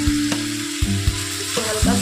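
Chopped tomatoes dropped into hot oil and frying masala for a broccoli curry give a loud, steady sizzle with stirring scrapes, with no speech.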